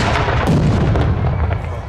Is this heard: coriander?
no